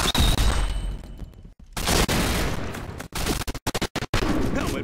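MP7 submachine gun fire in a first-person shooter game: rapid loud bursts of automatic shots broken by brief pauses, with sharp cracks cutting in and out near the end.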